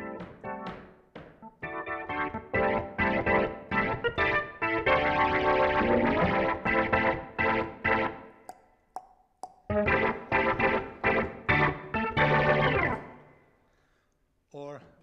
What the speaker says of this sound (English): this is an example of a rock organ with some distortion